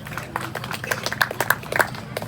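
Audience applause at a high school bass fishing tournament's championship weigh-in: a short burst of scattered hand clapping from a modest crowd, steady and fairly close, with faint voices mixed in.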